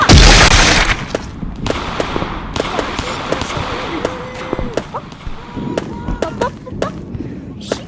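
Video game gunfire crackles in quick, sharp bursts and scattered shots, loud at the start and then continuing intermittently under excited talk.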